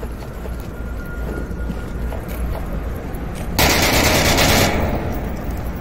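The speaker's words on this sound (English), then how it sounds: "There, boys, there's a lot of gunfire." Rapid automatic gunfire from the VR shooter game Onward rattles on in dense bursts under a constant background hum. Midway it swells into a louder, brighter volley for about a second before easing back. Nobody speaks.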